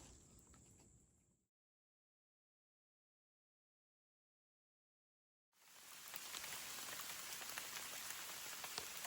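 Steady rain patters on a hunting ladder stand in South Florida, a dense close hiss that cuts out for several seconds and then resumes louder.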